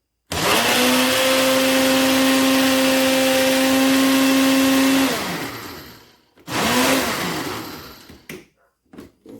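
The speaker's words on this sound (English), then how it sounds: "grind it all the way up into a powder, which that's what I'm going to do, is grind it into a powder" An electric grinder powders dehydrated ghost peppers with a loud, steady motor whine lasting about five seconds, then winds down and stops before a second short burst.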